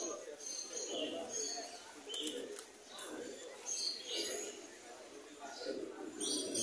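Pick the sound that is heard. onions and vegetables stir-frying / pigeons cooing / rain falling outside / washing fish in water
pigeons cooing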